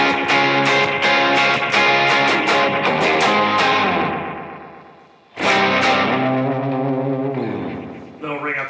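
Distorted electric guitar through delay pedals including a Memory Man, with repeating echoes, strummed chords ringing out and trailing off before a fresh burst of playing picks up again.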